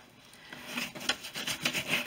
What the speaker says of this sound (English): loosen any debris from the bag. Just with a light brushing.